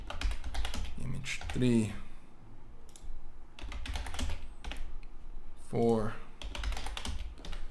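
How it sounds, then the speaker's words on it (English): Rapid clicking of keys on a computer keyboard while image labels are entered into a Dreamweaver photo gallery, in irregular bursts with a person talking over parts of it. "So in the first one, I just type in image 1."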